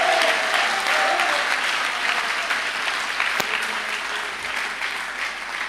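A church congregation at a Pentecost service applauds steadily and loudly, a dense wash of clapping that fades only slightly over several seconds, with faint voices mixed into the crowd.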